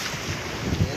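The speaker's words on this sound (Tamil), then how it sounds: "சரியான காத்துங்க இன்னைக்கு." Strong wind buffets a fishing boat out at sea, a steady close roar of gusting air and water noise that fills the brief moment with no voices.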